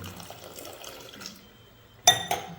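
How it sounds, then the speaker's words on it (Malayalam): Water poured into a pot of curry in a home kitchen: a faint, steady trickle, then two sharp splashy bursts close by near the end. "കുറച്ച് വെള്ളം കൂടി വെച്ചെടുക്കുന്നുണ്ട്"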